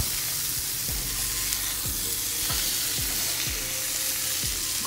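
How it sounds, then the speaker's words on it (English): Root vegetables, caramelized onions and chocho are stirred in a hot frying pan over a lowered flame. A loud, constant sizzle carries regular scraping stirs about every half second. "Now we are gonna add the rest of the vegetables to the pan."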